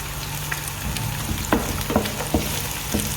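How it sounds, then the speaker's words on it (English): Onions with chili frying in a pan in a kitchen, a steady soft sizzle with a few sharp clicks and taps of utensils against the pan, no talking. "a little bit of frying of the onions."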